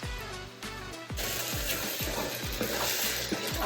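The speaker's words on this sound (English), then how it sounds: "for the next minute or two, I'm just gonna keep stirring and tossing and creating that nice sauce." Pasta and vegetables are stirred and tossed in a pot of sauce, giving a steady sizzling hiss with repeated scraping, clattering strokes of a utensil roughly twice a second, close and without talk.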